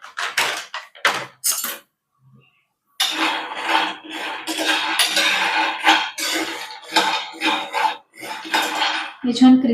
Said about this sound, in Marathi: हे छान क्रिस्पी होतील इथपर्यंत आपण याला भाजून घेऊया